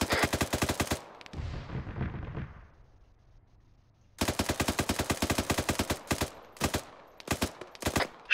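Rapid automatic gunfire from the Arma 3 military shooter game, loud close bursts of many rounds, a pause with fading echo and low rumble, then a long sustained burst followed by short staccato volleys.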